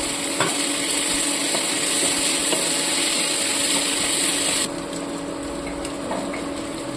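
Tomato pieces sizzle and hiss in a pan while mutton curry cooks, a steady broad frying noise close by. It drops in intensity partway through, with occasional soft clicks of a utensil and no voices.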